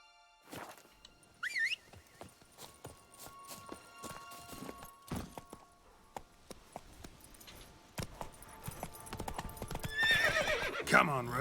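Roach, the horse from The Witcher 3, neighs early on. Sparse hoof clops then build into a faster gallop that grows louder, ending with another whinny.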